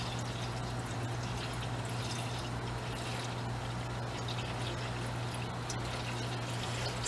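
Water pours steadily into a 1950s Morris Oxford found in an old warehouse, a continuous close splashing stream with a low hum running underneath throughout.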